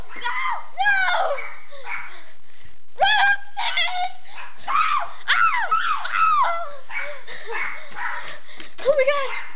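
Dogs in a video game bark, yip and whimper in repeated high, strained bursts, close and fairly loud, with gaps of near silence between the cries.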